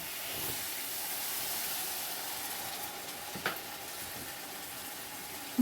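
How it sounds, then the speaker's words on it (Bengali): Water poured onto fried spice paste for Bengali katla fish kalia sets off a soft, continuous hissing sizzle, fairly faint and steady, with a small clink near the middle. "মশলাটা খুব ভালোভাবে কষানো হয়ে গেছে দিয়ে দিচ্ছি পরিমাণ মতন জল"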